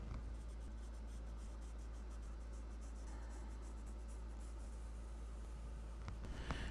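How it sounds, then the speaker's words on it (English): Ink applicator rubbed along the cut edge of paper for a scrapbook folio, a soft continuous scratchy swipe that runs steadily throughout, faint and close, with no one speaking. "now I'm just gonna run this along the edge so it looks inked and not like a raw cut edge"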